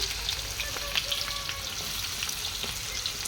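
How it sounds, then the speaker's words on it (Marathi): Chopped onion and curry leaves crackle and sizzle in hot oil in a pan, a dense, continuous frying hiss with small pops, heard close and without talk. "चार चमचे तेल आपण आता कांदा टाकूया यासोबत थोडासा कडीपत्ता"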